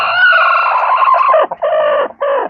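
A hen with four chicks calls up close, a long drawn-out cluck followed by two shorter clucks, loud and clear with nothing else around it.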